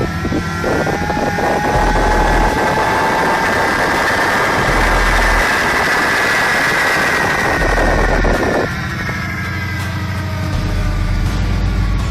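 A diesel locomotive engine runs loud and close with a steady deep rumble and a rising whine, its tone shifting partway through.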